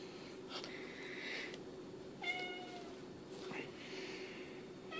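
A cat meows a few times at moderate distance indoors over a steady low hum. The cries are short and plaintive, with a faint sniff or wheeze between them and no voices.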